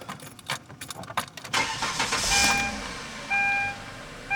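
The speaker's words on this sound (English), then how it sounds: "I'll start the car." A Hyundai car with a P0480 cooling fan relay fault code is started: a few quiet clicks and key sounds, then the engine cranks and catches into a steady idle, followed by short dashboard chime tones, recorded close inside the car.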